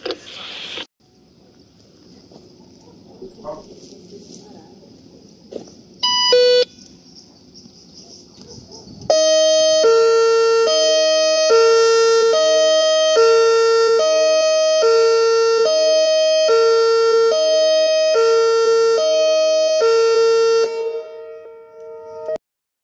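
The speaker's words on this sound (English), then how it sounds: "a sirene será acionada para teste do sistema de alarme" An alarm system siren in Brazil sounds during a test, loud and near, wailing in a steady repeating pattern of alternating tones for about thirteen seconds after a short announcement and quiet crickets.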